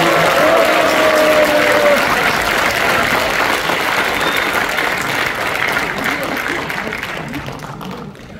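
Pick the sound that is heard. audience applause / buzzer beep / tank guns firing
audience applause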